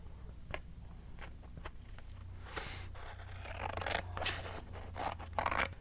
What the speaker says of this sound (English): I'm gonna take my scissors and just trim that off